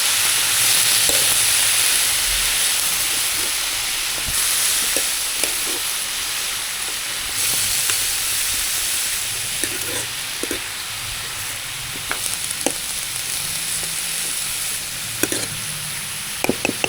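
Radish leaves fry and sizzle in a pan, a steady broad hiss that holds through the whole stretch with occasional light clicks and stirring scrapes. No one speaks.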